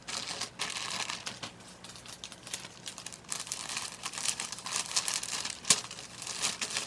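Thin plastic bag crinkles and rustles continuously while an order of leggings is packed for shipping, with irregular close-up crackles and one sharper snap near the end.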